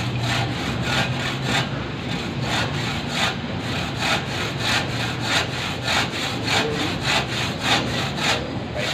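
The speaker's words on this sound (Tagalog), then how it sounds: "Yung sa lagari namin, medyo mabagal siyang makaputol." A hand saw cuts through an AAC block during block installation, its steady back-and-forth strokes rasping in a regular rhythm, close and fairly loud, with no talking.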